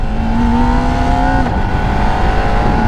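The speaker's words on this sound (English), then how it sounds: "So now we have our quick shifter. So let's go ahead and utilize it." Kawasaki Ninja ZX4RR motorcycle engine revving hard under acceleration, a steady high-pitched whine that rises, then drops briefly at a quick-shifter upshift and climbs again, loud and close throughout.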